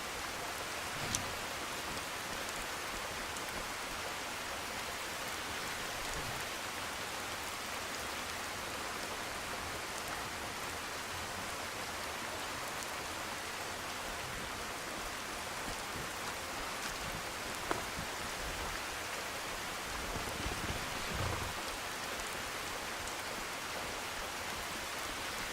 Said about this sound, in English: if you're enjoying this rain, this is Compliments of True Storms, which is one of my very favorite mods